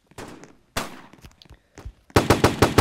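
Rapid video game gunfire: a few scattered shots early, then a loud, fast burst of evenly spaced automatic shots close up, with no talk over it.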